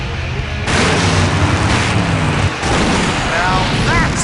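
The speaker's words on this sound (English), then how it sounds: "Now that's an explosion, ladies and gentlemen." Big cartoonish explosion in the adventure game Full Throttle, a loud rumbling blast that keeps booming and crackling for several seconds, with other game sounds layered over it.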